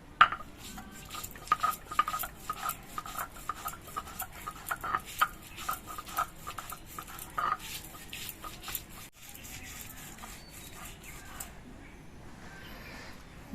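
Soaked matar dal is ground by hand on a shil stone, giving rhythmic scraping and grinding strokes close by that fade to quieter rubbing toward the end, with faint background voices.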